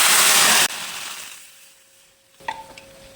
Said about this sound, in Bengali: আমি অন্য একটা ফ্রাই প্যান বসিয়ে দিয়েছি এবার দিয়ে দেবো পানি